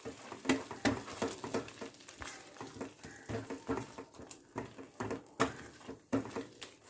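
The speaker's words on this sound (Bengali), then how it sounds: "ভালো করে একবার সব কিছু মিশিয়ে দিচ্ছি।" A spoon stirs onion stalks, peas and salt in a pan, producing quiet, irregular scraping and clinking with soft sizzling throughout.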